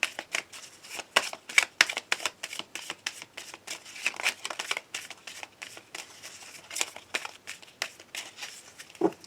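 Petit Lenormand fortune-telling cards being shuffled for a daily reading: a continuous run of quick papery riffles and flicks, close and fairly soft, repeating in uneven bursts with no voice.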